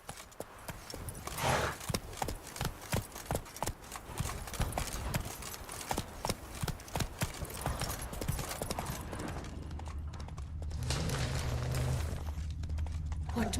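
Hooves of a galloping horse in the video game Witcher 3 Wild Hunt, a fast continuous clip-clop rhythm close by that eases into a steadier ambient rumble near the end.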